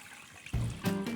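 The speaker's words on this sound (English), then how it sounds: "So we need to cover that with the remainder of the water here." Water poured into a pot holding chicken in stock, a steady close trickle and splash starting partway through, swelling louder near the end with no one talking.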